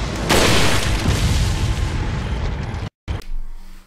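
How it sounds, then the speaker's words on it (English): Sniper rifle fire in the Resident Evil 4 video game: a loud booming shot with a long rumbling tail, then a short cut of silence and a faint follow-up sound, with no talking. "again with the sniper rifle"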